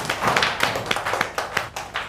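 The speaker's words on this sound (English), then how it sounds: "Let's give your friends a clap." A classroom of Year 1 children clapping for their classmates, a dense, continuous patter of small hands applauding throughout, fairly close and lively.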